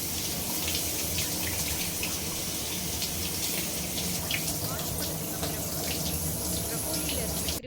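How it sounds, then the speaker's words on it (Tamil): Running tap water splashes over a whole head of broccoli being washed in a sink, a steady close gush with scattered splashing throughout and no voices. "ஃபர்ஸ்ட் ஒரு முழு ப்ரக்கோலியை எடுத்து ரன்னிங் வாட்டர்ல நல்லா வாஷ் பண்ணிக்கோங்க."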